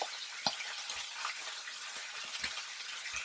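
Char siu pork sizzles steadily in a hot pan, a bright continuous hiss with a few soft knocks and clinks of a utensil turning the meat, close by with no talking.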